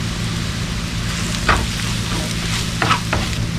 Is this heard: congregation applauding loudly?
no